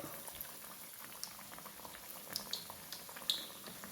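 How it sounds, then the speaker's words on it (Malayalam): Bajji fritters frying one by one in hot oil, a soft continuous bubbling hiss with small scattered crackles, fairly quiet and steady. "നമ്മുടെ എണ്ണ നന്നായിട്ട് ചൂടായിട്ടുണ്ട് നമുക്കിതാ ഓരോന്നായിട്ട് എണ്ണയിലേക്ക് ഇട്ട് കൊടുക്കാം"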